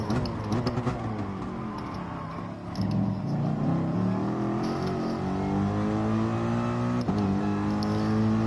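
A racing car engine in Gran Turismo Sport revs and accelerates continuously, its pitch climbing through gear changes, loud and steady throughout with no talk.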